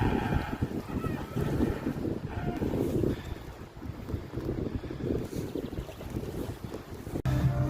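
Strong storm wind roars and buffets the microphone in heavy, uneven gusts, with a low rumble throughout.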